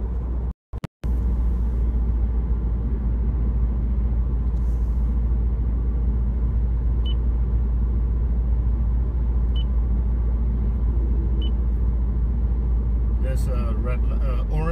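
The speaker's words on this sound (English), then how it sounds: "As you can see, I am driving." A car drives along a road, heard from inside the cabin as a steady low engine and road rumble throughout, with a brief dropout near the start and a few faint beeps and clicks later; a person talks over it.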